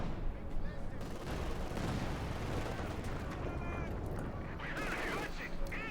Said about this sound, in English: Comes the pushback by the MG42